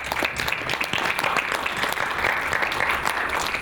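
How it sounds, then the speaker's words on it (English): Audience applause at a large conference, a dense, steady roar of many hands clapping at close range for several seconds with no pause. "Let's give a round of applause for Benjamin Bull."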